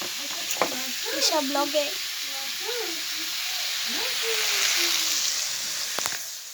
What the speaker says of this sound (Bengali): শাক ভাজছি